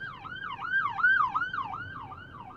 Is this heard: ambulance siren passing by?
yes